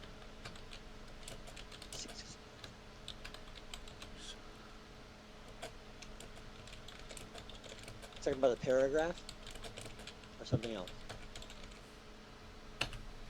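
Computer keyboard typing, a rapid run of light key clicks steady throughout under occasional talk, with a brief louder burst near the end.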